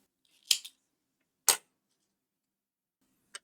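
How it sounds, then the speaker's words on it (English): Scissors cut through yarn during crochet work on a Hello Kitty sweater: two crisp, close snips about a second apart, then a faint small click, all against silence. "So what I do here, I just cut this yarn"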